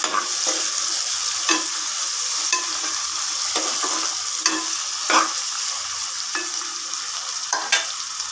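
Large onions sautéing with rock salt in a pan for chicken biryani produce a continuous close sizzle, punctuated by regular scraping stirs of a ladle against the pan.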